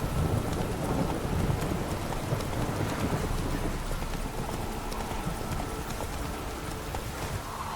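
Roach the horse gallops in The Witcher game, a steady drumming of hooves up close over a continuous wash of rain and rumbling storm noise, with no talk.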